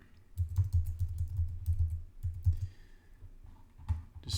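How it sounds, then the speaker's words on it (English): Quiet, close computer keyboard typing in quick irregular bursts of soft key clicks, with short pauses between runs. "So I'll just go ahead and type in here."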